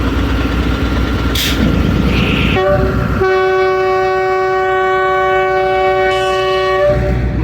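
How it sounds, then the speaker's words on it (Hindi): The Khyber Mail train at Nowshera Junction in Pakistan sounds its departure horn, a loud sustained multi-tone blast of several seconds over the rumble of the railway platform, with no talk. "इनिशियल डिपार्चर विसल हो गया नौशेरा जंक्शन से।"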